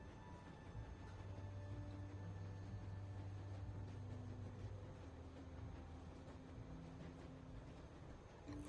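A train in The Walking Dead video game rolls along with a continuous low rumble and steady tonal hum. It stays fairly faint and even throughout, with no speech.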